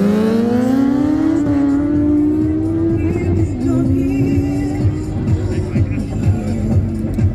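A six-cylinder motorcycle engine revs hard at a desert rally drag race, its pitch climbing steadily then holding high and loud, with a crowd's voices and background noise mixed underneath.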